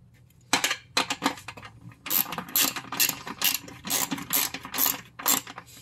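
Ratchet tightening bolts while assembling a Vego raised garden bed, a series of rapid clicking bursts in quick repeated strokes, close and fairly loud, with short pauses between sets.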